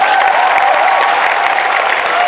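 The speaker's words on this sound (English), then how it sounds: "I think that deserves its own round of applause right there." A crowd applauds at a cosplay championship competition in Perth, a loud, dense and continuous clapping wash with a faint voice or tone running faintly underneath.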